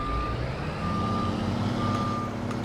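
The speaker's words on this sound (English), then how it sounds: "that's the reverse beep." Reverse alarm on a modded Massey Ferguson 7700 tractor in Farming Simulator 22 beeps steadily and loudly over a constant engine drone for the whole stretch, with no voices.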